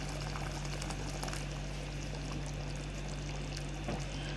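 Water is poured into a cooking pot of meat for okra stew, a steady rushing, splashing pour heard close and continuous over a low hum, with no talk.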